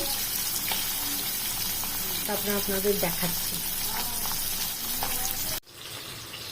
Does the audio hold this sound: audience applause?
no